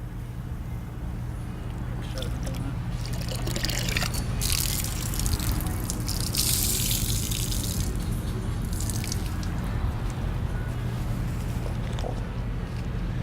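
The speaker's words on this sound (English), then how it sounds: "go over to your second bucket and then run it down against the dirt trap" A car wash mitt is swished and rubbed in a second bucket of water against a dirt trap during a two-bucket wash of a Nissan GT-R, giving steady sloshing and dripping water up close for several seconds.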